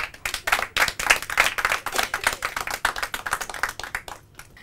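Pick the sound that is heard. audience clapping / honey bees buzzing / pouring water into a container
audience clapping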